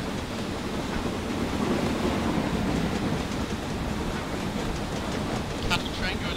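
A freight train of cattle wagons rolls past the other way in Train Simulator 2016 on Scotland's Western Lines, a steady broadband rumble and rush held for several seconds with a brief metallic squeal near the end.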